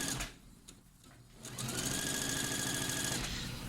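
A sewing machine stitches seams on a girls' cardigan hoodie. A brief start is followed by a steady, close, rapid mechanical whir that runs for several seconds, with no talking.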